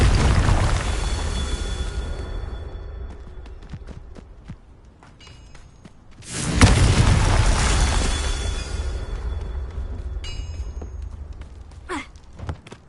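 A Confringo blasting curse bursts in a Harry Potter video game with a sudden loud boom and a long rumbling tail. Quieter game ambience with a faint rattle comes before and after.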